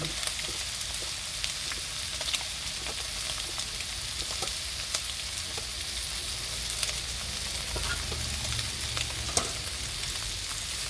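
Small rice noodles stir-fry with pork in a pan, giving a steady, close sizzle with frequent light scraping and tossing clicks that last throughout.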